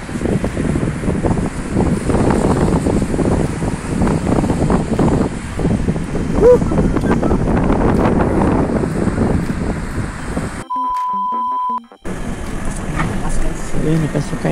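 Steady, loud roaring strong wind buffeting the microphone outdoors throughout, briefly cut out near the end before resuming.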